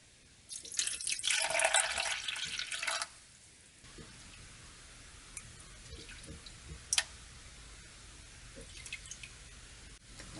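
Half a cup of warm water poured into a bowl of unbeaten eggs and maple syrup for gluten-free bagel dough, a bright splashing pour for about two seconds followed by faint drips and small kitchen clicks.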